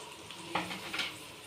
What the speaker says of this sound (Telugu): మంచిగా నీట్గా కలుపుదాం